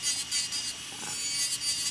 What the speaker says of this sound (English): it's like when I'm filing and sanding on her nails